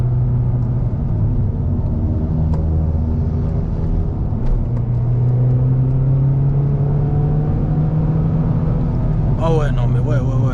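A 260 hp 2.3-litre turbocharged Mazda 3 MPS pulls hard under acceleration, a loud, steady engine drone heard from inside the cabin throughout, with a voice speaking near the end.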